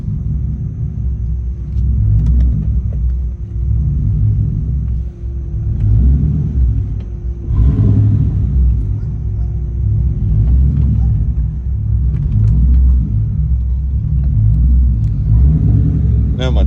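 A 2004 Ford Mustang GT V8 with a straight-pipe exhaust and a wrong-size mass airflow sensor idles with a deep, loud rumble. It swells into several short revs at irregular intervals.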